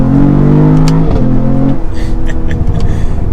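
A 2022 Cadillac CT4-V Blackwing's stock twin-turbo V6 revs close by, a loud, steady engine drone that shifts pitch partway through, then settles into a rougher, pulsing idle.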